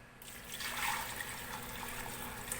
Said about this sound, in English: So what I'll do now is I'll pour some of this stock in here